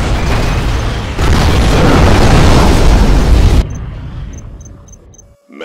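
A nuclear missile strike explodes in C&C Generals with a loud, roaring blast that swells and rumbles for several seconds, then cuts away to quieter ambience with a few short high beeps.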